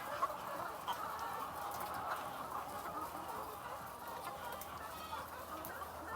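Hens in a large egg-laying flock cluck and murmur continuously at a moderate distance during egg collection, a dense overlapping farmyard chatter with no talking.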